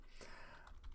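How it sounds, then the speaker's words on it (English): Typing on a computer keyboard while coding a Tkinter calculator in Python: a short, steady run of soft key clicks at close range, with no talking. "And we got lots of typing."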